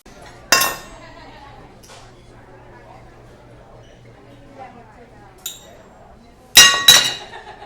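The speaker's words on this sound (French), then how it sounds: "lui, joue avec ses couverts." Cutlery clinks against dishes at a restaurant table, a few sharp metallic chinks spread out with two louder clusters near the end, over a quiet room hum.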